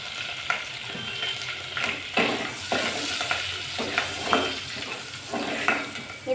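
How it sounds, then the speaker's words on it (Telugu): Slit green chilies fry in hot oil in a pan for pulihora, giving a steady soft sizzle broken by repeated scraping stirs of a spoon against the metal, close and moderately quiet. "చీల్చిన పచ్చిమిరపకాయలు 2, కొంచెం అలా వేగిన తర్వాత"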